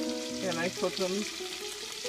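Mini sausages with pine nuts sizzle steadily in a cast iron pan over medium heat, a close, continuous frying hiss with a few light stirring knocks, while someone speaks briefly over it.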